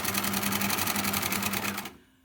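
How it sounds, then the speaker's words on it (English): A sewing machine runs a long-length stitch for a frill, whirring with a rapid, even pulse close by for about two seconds before stopping abruptly. "to create the frill, I need to do 2 parallel lines of stitching, number 5 length, or the longest length on your machine"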